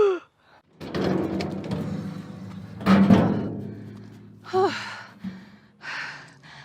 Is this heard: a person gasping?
yes